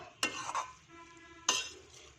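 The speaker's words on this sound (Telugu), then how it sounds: "పాస్తాకి పట్టేలా తిప్పుకొని కలుపుకోవాలి." A utensil stirs homemade pasta into its sauce mixture in a pan, giving two or three scraping clinks against the cookware with a faint sizzle between them, close and quiet.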